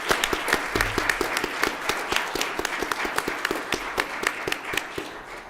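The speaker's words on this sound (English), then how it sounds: "give these people a big round of applause" A village council meeting audience gives steady applause, with distinct individual claps in a brisk rhythm suggesting a modest crowd, close and fairly loud throughout.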